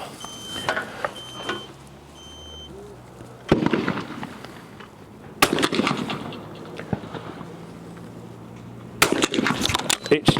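A Beretta 688 shotgun fires at targets in a series of loud, sharp blasts spaced several seconds apart outdoors, with quieter handling noise between shots.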